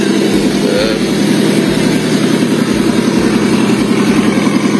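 A Porsche engine runs loud and close at a large car-club gathering, a steady throbbing idle with a regular low pulse and no voices over it.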